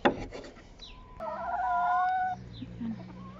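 Chickens near their coop giving a few soft clucks and short squawky calls, faint and close, with brief tonal notes and light background noise.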